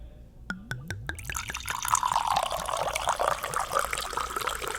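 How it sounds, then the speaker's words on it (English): Italian wine pours into a glass after a few clinking taps, the liquid gurgling and rising steadily in pitch, close and fairly quiet. "here's the pour."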